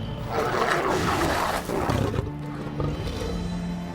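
A lion gives a deep, loud roar lasting a couple of seconds, followed by lower rumbling grunts, heard close and alone.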